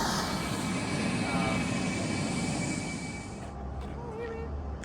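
Teton tour helicopter flying over the Grand Tetons, a steady broadband rotor and engine roar that holds loud and then eases slightly, with faint voices toward the end.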